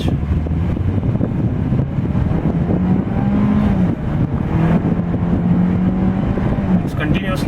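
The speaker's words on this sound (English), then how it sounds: "let's see how the car accelerates in the L mode on an empty stretch" A Ford Fiesta automatic accelerating hard in L mode on an empty road, its engine a loud, steady drone that climbs in pitch with heavy wind and road noise, while someone talks over it.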